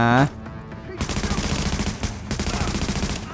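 Rapid automatic gunfire from The Division video game, first one short burst, then sustained, rhythmic shooting that stays loud and dense to the end, with a voice under it.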